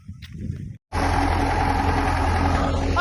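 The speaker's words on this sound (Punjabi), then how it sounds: "ਹੁਣ ਤਾਂ ਟਰੈਕਟਰ ਆ ਗਿਆ" A steady, low engine rumble idles continuously after a brief quiet break, with a constant droning hum and no voices.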